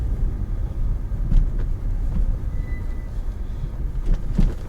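Peugeot 406 V6 engine idling after its first morning start, running with a replaced exhaust; a steady low rumble with a few faint bumps, fairly close and alone, no talking.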